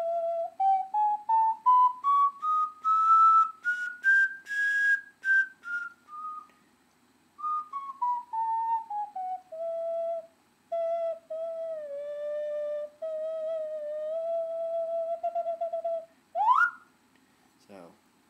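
A handmade ceramic ocarina in F plays a slow, clear, pure-toned melody up close. Sustained notes glide up and then down, with brief breaths between phrases, before a quick upward slide at the end.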